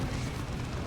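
Land mines detonating in the Dawn of War 2 strategy game, heard as a dense, continuous roar of explosions that fills the whole moment with loud rumbling noise.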